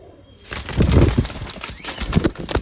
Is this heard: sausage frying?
no